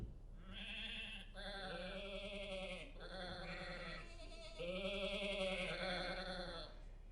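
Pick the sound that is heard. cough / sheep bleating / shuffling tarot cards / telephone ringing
sheep bleating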